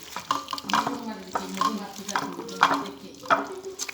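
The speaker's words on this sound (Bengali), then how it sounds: "তারপরে দিলাম সাতকরা দিয়া ভালো করে মাখাইলাম" Chicken meat is mixed by hand with oil, coriander powder and satkara citrus in a bowl, producing wet squelching and sloshing in an uneven rhythm with occasional scrapes, close and moderately loud.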